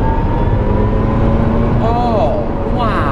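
Tesla Roadster electric sports car floored from inside the cabin, a steady loud whine and road roar under voices talking, with a rising tone sweeping upward near the end.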